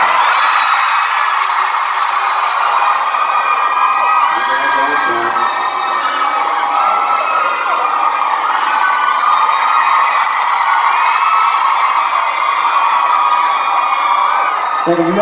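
A concert crowd at a show in London screams and cheers, a dense, loud, continuous wall of high-pitched shrieks and whoops that holds steady for the whole stretch.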